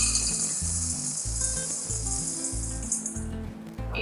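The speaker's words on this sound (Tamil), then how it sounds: "இப்போ கடலைப்பருப்பும் உளுந்தும் பார்த்தீங்கன்னா இந்த பொன் வறுவல் மாதிரி வறுபட்டுறணும்" Chana dal and urad dal dry-roasting in a pan for curry leaf powder, with a bright continuous sizzle and rattling grains as they are stirred, close and fairly quiet, with a rhythmic low thumping running underneath.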